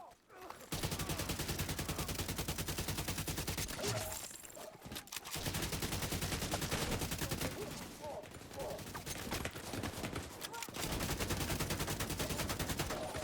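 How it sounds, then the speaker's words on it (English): Sustained gunfire from Tom Clancy's The Division 2, Battle for Brooklyn, with dense rapid automatic bursts rattling almost continuously, broken by two short lulls, loud and close. "I was reloading while being shot at"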